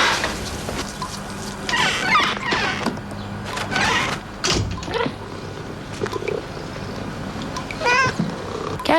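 A cat meows several times in a Whiskas cat food commercial, short calls rising over background music and sound effects.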